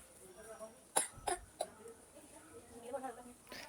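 A young girl coughing after drinking water, two or three short sharp coughs close by, followed by quieter murmuring voices in a calm room.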